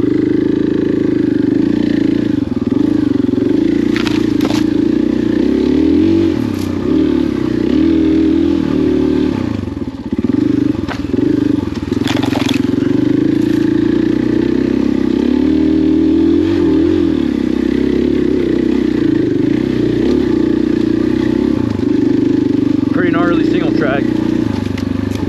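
KTM 500 XCF-W dirt bike on Stonyford OHV trail 15, its single-cylinder engine droning and revving steadily up close for a long stretch, with rattles and a rider talking over it.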